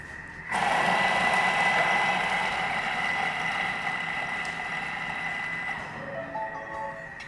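A kitchen machine whirs steadily at speed 5 while chopping ingredients for home cooking, a loud, even motor hum that starts abruptly and runs for several seconds before easing down near the end.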